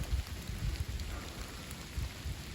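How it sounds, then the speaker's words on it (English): Light rain or water dripping from trees in wind on a mountaintop, a soft steady patter with low rumbling gusts, faint and continuous with no voices. "I can't tell if it's actually raining or if it's just water coming out of the trees with the wind"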